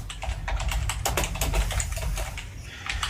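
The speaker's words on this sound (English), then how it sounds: "So what I'm doing is I'm typing welcome to the website inside quotation marks" Quick, close clicking of keys on a computer keyboard as text is typed, a dense irregular run of crisp taps with brief pauses, no voices.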